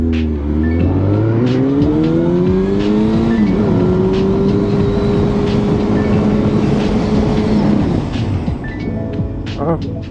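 Car braking hard from 80 km/h with the rear wheels skidding, a loud engine note that falls in pitch as it slows, then a steady drone, with a voice heard over it.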